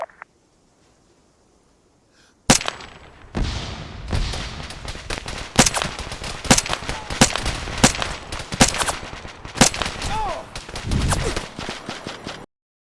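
Gunfire in the ArmA 3 CSLA campaign: after a near-silent start, a dense barrage of sharp rifle and automatic shots erupts, loud and close, with bursts and single cracks continuing for about ten seconds.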